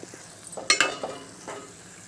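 A spoon stirs egg curry with fresh coriander in a pan, giving a few quiet scraping and clinking strokes with one brighter metallic clink, soft and close.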